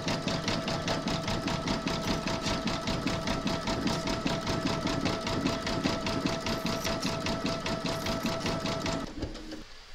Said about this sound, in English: then you're going to stitch round number 11, and that's going to do the satin stitching around the borders